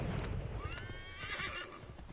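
In the video game Assassin's Creed 3 Remastered, a horse whinnies loudly over rapid galloping hooves, the neigh rising and falling in a long quavering call.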